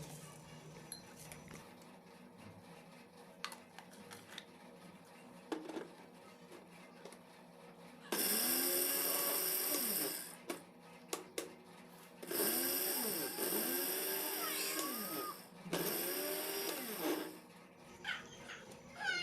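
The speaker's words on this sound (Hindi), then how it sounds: "अब यहाँ पर हम लेंगे तकरीबन 4 से 5 चम्मच चीनी। इसको हम ग्राइंड कर देंगे।" Electric grinder whirring loudly as it grinds four to five spoons of sugar into powder, in two long bursts of steady high-pitched motor noise separated by a short pause, with quieter kitchen clatter before.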